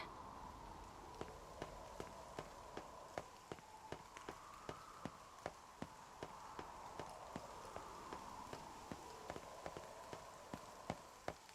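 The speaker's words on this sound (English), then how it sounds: "it's raining." Soft, steady rain patter in the video game NieR Reincarnation, with regular clip-clop footsteps walking throughout, quiet and even.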